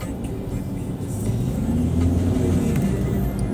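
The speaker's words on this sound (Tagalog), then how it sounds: "Maharu-harurot na ang mga person na to." Traffic rushes by on an expressway, heard from inside a car as a steady low rumble that swells as vehicles speed and rev nearby, with no talking.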